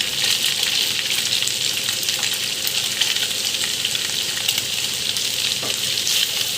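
Julienned carrots fry in a pan with steady, bright crackling sizzle running throughout, loud and close, with a brief clink near the end and no talking.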